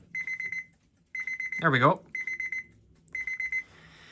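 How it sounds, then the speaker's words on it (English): Rapid mechanical alarm bell of an antique alarm clock ringing in several bursts separated by short pauses, with someone briefly speaking in between. "I've noticed the alarms on these things go first"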